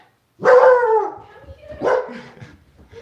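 A dog barks twice, loud and close, each a drawn-out, howling bark in a quiet room with no talk.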